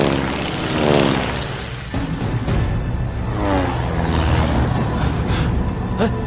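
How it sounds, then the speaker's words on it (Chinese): A military aircraft roars overhead in a Korean War battle film set at Shangganling, a loud broad rumble with rising and falling engine tones as it sweeps past. "飞机！ 飞机！ 快下！"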